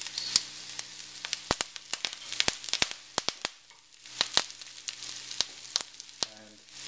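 Onions, cardamom, cloves, a cinnamon stick and curry leaves sauté in hot oil for a Sri Lankan sour fish curry, giving a steady close sizzle broken by frequent sharp pops and crackles.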